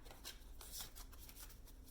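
Tarot deck being shuffled by hand, a soft, faint, continuous riffle and flutter of cards close up with no talking.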